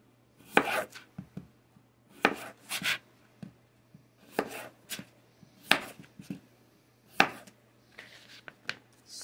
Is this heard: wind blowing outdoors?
no